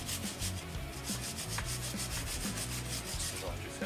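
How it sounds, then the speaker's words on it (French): A brush scrubs hard against the front wheel hub of a Saab 9-3 in a garage repair, making rapid, rhythmic rasping strokes that repeat close up with no talk. "on va mettre un coup de brosse."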